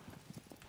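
Horse hooves clip-clop in Shadow of the Colossus, a short run of soft, evenly spaced hoofbeats on a woodland path, close and moderately quiet.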